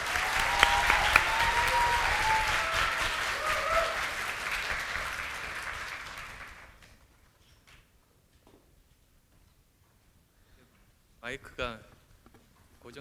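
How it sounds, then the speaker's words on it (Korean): A university student audience at a leadership academy lecture gives loud sustained applause to welcome the People's Party leader, the clapping fading out after about six seconds, followed by quiet room noise and a few handling bumps. "큰 박수로 맞이해 주시기 바랍니다."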